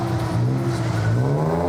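A Chevy Monte Carlo SS rolls past in an antique car and tractor parade, its steady low engine rumble and exhaust drone close and continuous, rising slightly as it passes.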